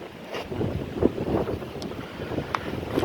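Steady wind rushing and buffeting across the microphone outdoors while cutting firewood with a Stihl MS 230 chainsaw, a continuous rough noise with occasional louder gusts and faint bumps, no voices.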